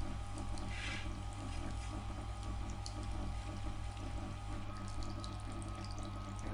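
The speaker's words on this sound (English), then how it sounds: "I'm just going to polish as much of the back of this blade as I care to" A chisel back is polished on a Triton 120W wet whetstone sharpener, giving a steady motor drone with a wet, watery grinding wash layered on top, continuous and close throughout.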